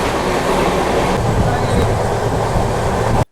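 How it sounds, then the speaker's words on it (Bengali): The Jammu Tawi Express pulls into Raniganj station with a loud, steady rumble of rolling wagons and faint clatter, heard up close with a voice in the background. "আর এইমাত্র ট্রেনটা এসে পৌঁছালো রানীগঞ্জ স্টেশনে 186 কিলোমিটার পথ অতিক্রম করে"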